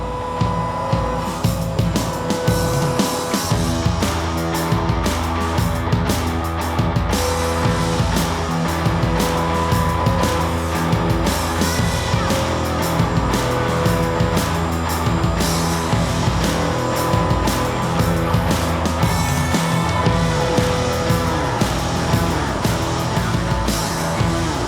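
Haas 40 taper CNC milling machine cutting a custom aluminum wheel for a 2002 Ford Lightning, with a dense, continuous grinding and clattering roar broken by rapid irregular tool chatter and bursts, loud throughout.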